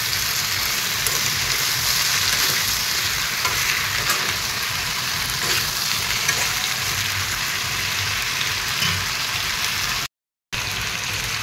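Taro pieces fry and sizzle in a pan, a dense hiss like rain with occasional soft stirring scrapes, close and continuous with a brief cut near the end.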